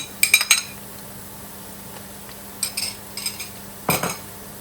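A utensil stirs butter and ginger garlic paste in a pan, giving a few quick metallic clinks and scrapes in short bursts over a faint background, with no talk.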